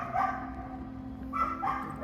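A small dog in Algiers barks in short, sharp yaps, one bark near the start and then two quick barks close together, fairly near against a steady low background hum.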